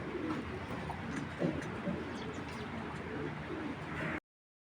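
Small Giribaz pigeons with clipped wings coo in repeated low, throaty bursts that sound close and fairly loud, over a continuous murmur for about four seconds before the sound cuts off. No voices.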